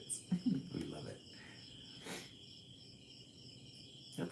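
Crickets chirp at a bonfire, a high steady trill running throughout, faint and continuous beneath quiet voices talking and some crackling noises.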